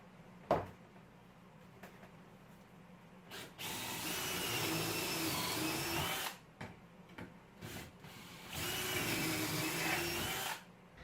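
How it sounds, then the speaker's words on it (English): A power drill whirs in two sustained bursts of several seconds each, drilling pocket holes in a mitered wood end with a jig, separated by brief clicks and short pauses, close and fairly loud. "Using a pocket hole jig, I'm going to drill 2 holes on the miter end."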